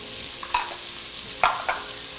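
Onions, peppers and red Fresno chiles cooking in olive oil in a pan. A soft, steady hiss runs under three sharp scrapes and clinks of stirring, heard close and alone.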